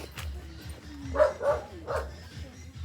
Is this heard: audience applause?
no